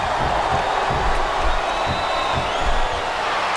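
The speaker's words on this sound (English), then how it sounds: "I love hearing the crowd come alive" Arena crowd at a Candice Michelle vs Mickie James women's wrestling submission match roars in a steady, dense wash of cheering and noise that holds for the whole stretch, with faint talk mixed underneath.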